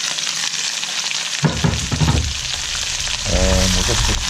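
Sliced onions sauté in ghee with whole spices, a steady crackling sizzle with bursts of stirring, close and loud throughout; some voice-like tones rise near the end.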